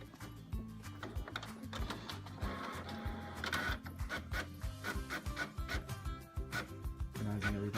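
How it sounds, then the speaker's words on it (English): Home printer printing a paper balloon vehicle template, busy mechanical whirring and clattering with rhythmic paper-feed rasps and clicks, moderately close and continuous, no talking. "And now we go to our printer."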